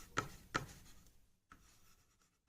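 A pen scratches out an equation on paper by hand in two quick firm strokes, then softer continued scribbling, close by and quiet with no talk.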